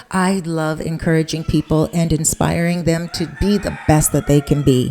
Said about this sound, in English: Do you hear that rooster in the background?